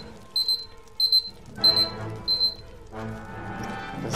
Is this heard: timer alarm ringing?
yes